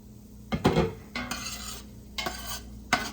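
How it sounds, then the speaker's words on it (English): Sautéed vegetables for a venison soup are stirred in a pot, giving four bursts of utensil scraping and clinking over a faint sizzle, close by with no talk. "So these vegetables look nice and sauteed, translucent."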